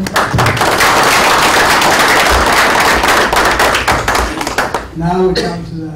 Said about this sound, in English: Another round of applause for the ambassador.